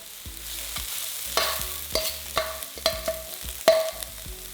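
Onion, garlic and ginger sauté in a pan for tochong bangus, with a steady sizzle broken by repeated spatula knocks and scrapes against the pan at an uneven rhythm.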